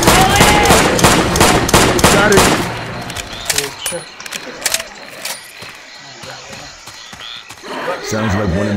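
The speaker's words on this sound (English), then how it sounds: "Sounds like one of them smoker bitches" Gunfire and a croaking, growling smoker zombie in a swamp filled with undead, with rapid dense shots up front, then scattered pops and a guttural growl in a quieter, murky stretch.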